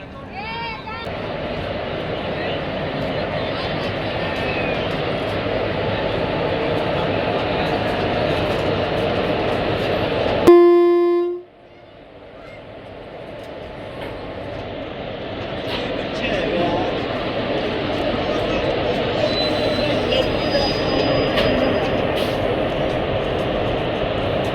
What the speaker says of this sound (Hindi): अपना जो लोकोमोटिव है ना वो आ चुका है रिवर्स होके